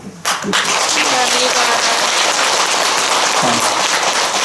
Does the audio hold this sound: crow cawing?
no